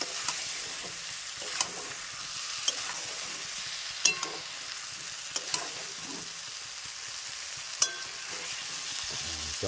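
Egg curry ingredients with potato and coriander leaves being mixed by hand in a bowl, a steady soft wet squishing and rustling with a few sharper taps and clicks of the vessel, close and fairly quiet.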